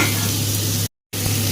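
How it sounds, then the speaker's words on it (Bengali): Potato and papaya pieces sizzle steadily in hot oil left from frying fish, a close, constant crackling with a brief silent break in the middle. "আলু পেঁপেটাকে তেলের সাথে ভালো করে একটু ভেজে নেব"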